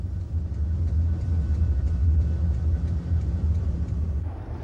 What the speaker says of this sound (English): the trains are hauled by a Class 47 and assisted by a Class 37